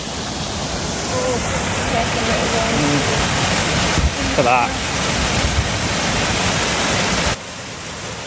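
Aira Force waterfall in the Lake District thunders as a loud, constant hiss and roar of falling water, with brief speech heard over it before the sound drops slightly near the end.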